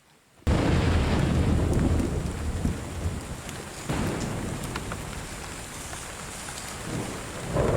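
A heavy nighttime thunderstorm bursts in suddenly after a quiet moment, dense rain roaring on surfaces alongside deep rolling thunder, with a second rumble swelling midway and the downpour continuing loud and close.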